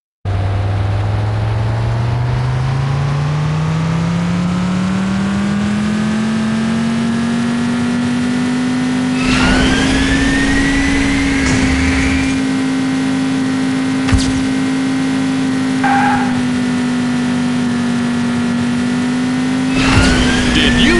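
A car engine in the City Racing 3D mobile racing game revs upward and then holds a loud, buzzing whine. Gear shifts cause brief dips, and a few short electronic beeps sound along the way.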